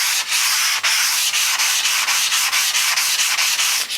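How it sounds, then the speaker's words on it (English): A stainless steel juicer top being sanded by hand, a close, steady scratchy rubbing in quick regular back-and-forth strokes with no other sounds. "One, you can sand it"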